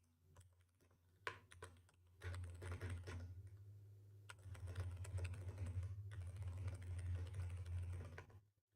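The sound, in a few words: typing on a computer keyboard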